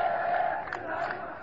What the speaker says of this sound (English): The crowd is chanting God,